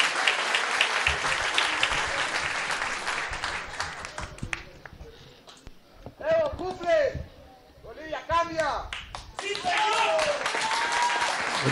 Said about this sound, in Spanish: vamos a recibir con un fuerte, fuerte aplauso que se escuche en todo Bolivia